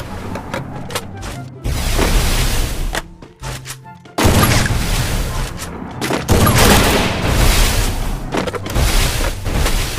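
Loud, dense bursts of gunfire and booming shots from an AWM sniper rifle and other weapons in a mobile shooter game, cracking in rapid volleys over ten seconds with a brief lull midway.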